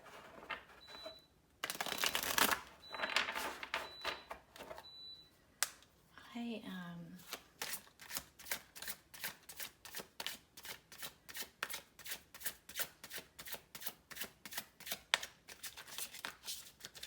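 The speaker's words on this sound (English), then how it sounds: "Somebody was asking me the other day why I shuffle my decks the way that I do." Tarot cards shuffled in quick riffles and bridges, then a long run of steady, rhythmic slaps and flicks as a deck is worked, close and crisp.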